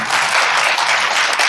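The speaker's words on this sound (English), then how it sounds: "I'm going to give you a round of applause." An audience applauds at a fashion talk event, dense steady clapping from many hands that stays at one level throughout the short burst.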